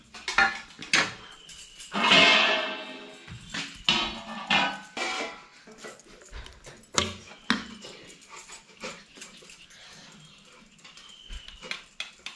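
A metal plate of mango pulp shaken from side to side to spread it for drying into aam poli, giving irregular clattering and scraping knocks, close and moderately loud, in uneven bursts.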